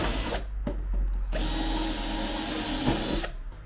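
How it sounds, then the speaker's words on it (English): A power drill whines steadily at high speed, drilling out the skin of a race car wing, cutting out briefly twice near the start, then running continuously and loud up close. "drill the skin off."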